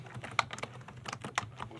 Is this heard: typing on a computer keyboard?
yes